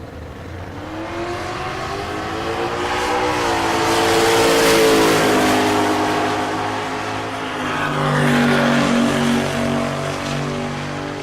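A 1969 first-generation Chevrolet Camaro makes a drag strip run at Tulsa Raceway Park, its engine a loud, sustained roar that climbs in pitch through the gears and holds strong to the end, with no talk over it.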